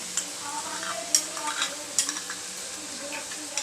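Okra for masala bhindi being stir-fried in a pan makes a continuous sizzle, broken by several sharp spatula clicks and scrapes against the pan. There is no talking.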